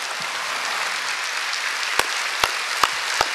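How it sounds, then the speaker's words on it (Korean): Church congregation applauding during a peace-unification prayer service, a steady wash of many hands clapping with a few sharper, louder claps standing out near the end. "하나님께 박수 칩시다"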